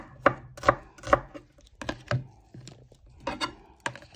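A knife chopping an onion on a cutting board, a series of crisp close taps in uneven bursts with short pauses between, no talk.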